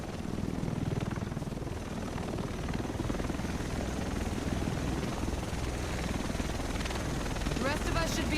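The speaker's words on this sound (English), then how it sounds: "The rest of us should be in this chopper." A helicopter in the video game The Division approaches with a steady rumbling rotor drone that fills the scene. It stays dense and constant beneath a low sound bed.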